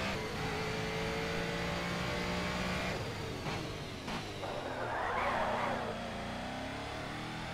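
A TVR race car in the GRID racing game, Club GT Firestone event, holds a steady high engine whine through the gears, rising and shifting pitch, with a brief tyre skid partway through.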